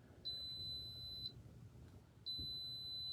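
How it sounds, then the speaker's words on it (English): A coffee pot alarm beeps twice in a quiet room, each a long, high, steady electronic tone lasting about a second, separated by a short pause. "My coffee pot alarm's going off."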